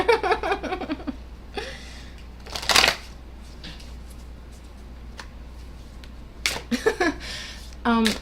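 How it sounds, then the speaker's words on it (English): A deck of playing cards is shuffled up close in a few quick, crisp riffling bursts, with brief talk and quiet pauses between them. "I'm going to give these a good shuffle"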